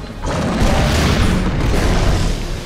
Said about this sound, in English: Hit with the rocket and run.